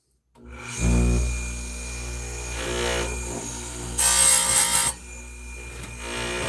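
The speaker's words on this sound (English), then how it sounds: "this makes some good work and fast work of sharpening your chains." A chainsaw chain being sharpened with a power sharpener, a steady grinding whine with one sharper, brighter burst of grinding in the middle, close and loud with no talking.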